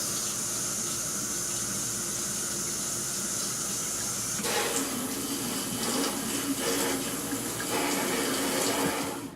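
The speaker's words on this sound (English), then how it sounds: "Now we're going to turn on the water, activate the diverter" Tap water runs through a filter diverter, a steady rushing flow that grows noticeably louder and more splashy about halfway through as the diverter is switched, with no talking.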